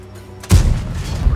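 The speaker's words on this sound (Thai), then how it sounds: "ลูกทองเหมือนเดิมครับยิงหัว UDS 15 16ครับ" An ST-I heavy tank in World of Tanks fires a single gold round: one loud, close cannon boom after a brief quiet hum, followed by a low rumbling tail.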